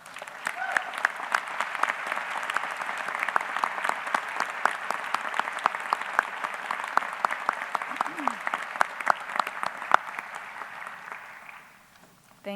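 A graduation audience at a university winter commencement applauds the faculty, a steady, dense round of clapping that fills the hall for about twelve seconds before fading out near the end.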